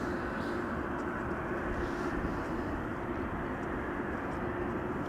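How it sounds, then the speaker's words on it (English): A Delta Airlines airliner coming in on runway 27 at Amsterdam Schiphol, its engines a broad, steady roar that stays loud and unbroken, heard outdoors at a distance. "Delta Airlines Flight 236 is next to come in on runway 27."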